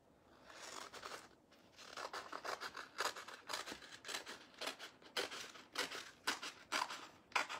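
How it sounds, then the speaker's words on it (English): Scissors cut a line through leather for a purse, producing steady, close crunchy snips in a rapid irregular rhythm, moderately loud and with no talking. "let's cut this line here then"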